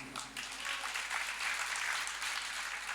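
An audience at a Hindi religious discourse claps steadily and loudly for the whole stretch, a dense wash of many hands in a large hall with no talk over it.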